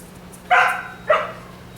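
Two sharp, high yaps from a small female dog, spaced about half a second apart and fairly close, over a quiet low hum with no talking.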